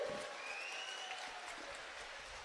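Crowd clapping at an outdoor election rally in Katwa, Bardhaman Purba, a steady, fairly faint wash of applause with no clear voices over it.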